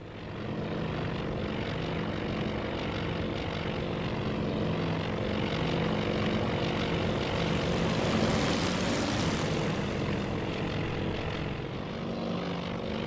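Propeller aircraft engines roar steadily off a carrier deck during a launch in the naval combat game Task Force Admiral, a loud continuous drone with a swelling rush near the middle, no voices.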